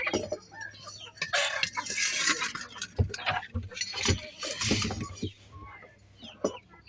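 Egg-laying hens cluck and squawk in a sturdy coop, several birds calling irregularly and close by, with rustling and handling noises mixed in.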